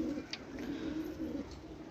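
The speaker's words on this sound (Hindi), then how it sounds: "ये भी हाई फ्लायर रोलर का कबूतर है।" Soft, low cooing of a high-flyer roller pigeon, a steady rolling murmur with a couple of faint higher chirps, fairly close and quiet.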